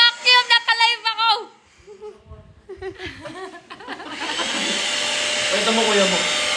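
Laughter and talking come first, then a household vacuum cleaner starts up and runs with a steady whooshing drone, with voices continuing over it.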